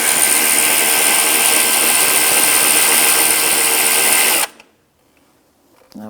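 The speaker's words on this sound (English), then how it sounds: "Loosen up the pulley nut and then the adjuster." A power tool driving a 12 mm socket loosens the A/C belt pulley nut on a 2004-2009 Subaru Outback, whirring loud and steady up close for over four seconds before cutting off abruptly into near silence.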